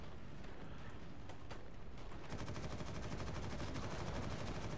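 Rapid gunfire from the game Warhammer 40,000: Eternal Crusade, a dense, continuous stream of shots under game noise that turns harsher and more rapid halfway through, quiet overall.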